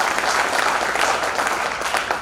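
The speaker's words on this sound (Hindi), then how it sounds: "जोरदार तालियां" An audience bursts into steady, loud applause at a motivational talk, a dense wash of clapping hands lasting a couple of seconds with no speech over it.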